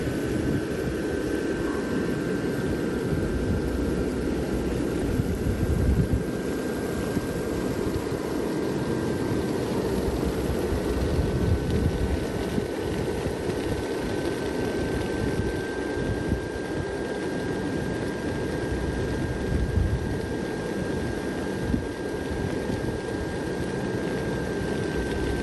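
A blower fan runs steadily, inflating a Gemmy airblown animated Wheel of Fun decoration, producing a constant broadband roar and hum with a faint tonal whine, unbroken and fairly close for the whole stretch.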